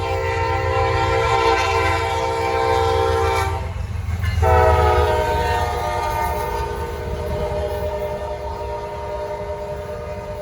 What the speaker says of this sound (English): But I'll catch this train instead.